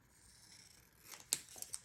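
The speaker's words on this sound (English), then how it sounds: "I'm just going to cut off the top actually" Scissors snip the top off a paper envelope at close range, a soft slide of the blades followed by a few quick, crisp cuts.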